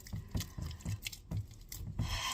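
Squishy, rhythmic rubbing and slapping of wet peasant bread dough kneaded by hand, repeating about twice a second, close up and fairly quiet.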